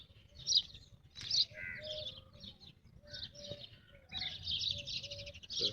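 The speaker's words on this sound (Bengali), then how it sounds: "পাখির ডাক শুনতেছেন ভালোই কিচিরমিচির।" Birds chirp in an oasis forest garden in Dubai, with repeated bright tweets and calls, some soft cooing and a low, steady outdoor rumble underneath, all fairly faint and distant.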